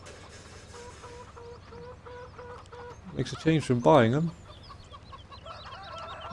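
Chickens cluck and squawk in a coop in the farming game Farming Simulator 17, a short burst of loud, close clucking rising midway through, while someone talks over a quiet background.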